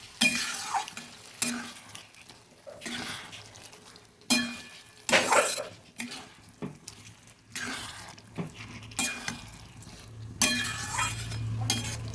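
Ingredients for a katla fish-head muri ghonto are stirred and mixed in a pan, with intermittent bursts of scraping and clinking between quieter gaps and a soft sizzle underneath.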